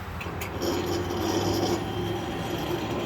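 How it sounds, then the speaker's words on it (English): A railroad crossing gate in New Johnsonville, Tennessee rises quickly with a loud grinding, scraping mechanical noise while a train sits nearby during switching, steady and close for a few seconds. "that gate goes up real fast. Makes a lot of noise too."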